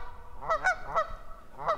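Flushed geese honk in a rapid series of loud, nasal calls, several overlapping cries close by in open Montana country, with a short pause before a final honk.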